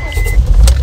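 A car engine turns over and settles into a loud, steady low rumble for under a second, with no talking.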